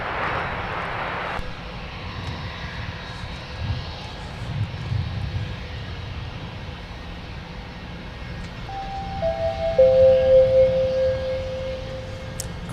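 A Sun Country airliner arriving from Fort Myers roars steadily as it comes in to land, with a sustained jet rumble and a rising, whining tone that swells louder toward the end.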